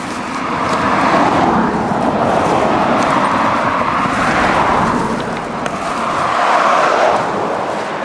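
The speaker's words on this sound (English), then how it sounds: "So you can see how close a lot of these cars are coming." Cars rush past close by on a roadside on the way to the bins, with a steady loud roar that swells in waves as each vehicle passes, and no voices.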